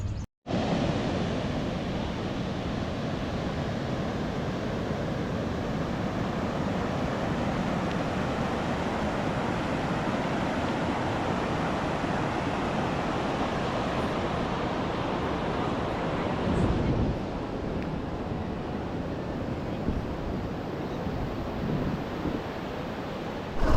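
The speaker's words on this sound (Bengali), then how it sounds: "এই সমুদ্র," Ocean surf at Shankarpur beach, a steady broadband wash of waves mixed with wind buffeting the microphone, continuous and fairly loud throughout with no talking.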